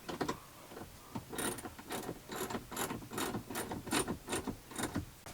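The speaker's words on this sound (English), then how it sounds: "right now he is just going to tighten everything down, make sure everything is secure" Battery terminal connections on an off-grid lithium battery setup being tightened down, giving a run of quick, close metallic ratcheting clicks in steady bursts.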